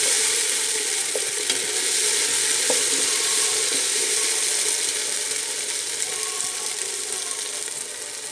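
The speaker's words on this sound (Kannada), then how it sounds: "ಟೊಮೆಟೊ ಪಾಡ್ದು ಸರಿ ಫ್ರೈ ಮಾಡ್ಕೊಗ" Tomatoes fry in a pan for a fenugreek-leaf and green gram gravy, giving a dense, even, crackling sizzle close to the mic that holds steady and fades slightly toward the end.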